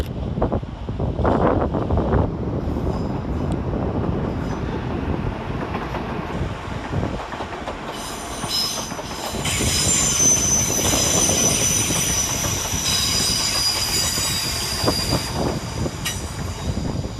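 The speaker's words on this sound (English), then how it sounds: "Running 21 minutes late for London Northwestern is 352-38 and 352-42, working 1 Foxtrot 50 from Birmingham New Street to Liverpool Lime Street." London Northwestern Class 350 electric multiple unit pair, 350238 and 350242, rolling through Edge Hill station toward Liverpool Lime Street, a steady rumble of wheels on rails with rising wheel squeal and some wind buffeting on the microphone.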